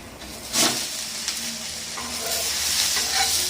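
Uthappam sizzling on a hot pan just after being flipped, a bright crackling sizzle with a spatula scrape and a couple of knocks early, then settling into a steady close hiss without speech.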